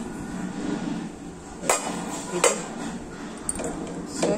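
Metal clanks and clinks as the lid of a pressure cooker is opened after a couple of whistles, a few sharp knocks of steel against steel over quiet kitchen background.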